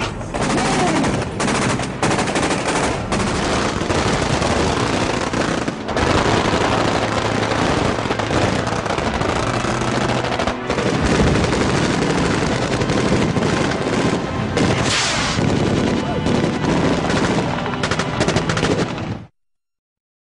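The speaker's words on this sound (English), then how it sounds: "Explosion!" Film explosion effects for Terminator 2 roar in a loud, dense barrage of blasts and crackling bangs that runs almost without pause for about nineteen seconds before cutting off abruptly.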